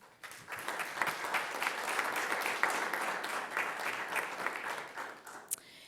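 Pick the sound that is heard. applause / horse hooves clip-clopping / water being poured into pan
applause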